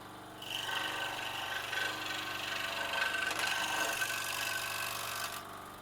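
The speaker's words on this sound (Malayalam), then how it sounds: "സ്ക്രോൾ സോ ഒരു ചെറിയ ബ്ലേഡ് യൂസ് ചെയ്ത് സങ്കീർണമായി കട്ട് ചെയ്യുന്നു." A scroll saw with a small blade cuts a wooden Christmas earring, a steady close mechanical whir with a high buzzing tone that holds for about five seconds before stopping, with no talk.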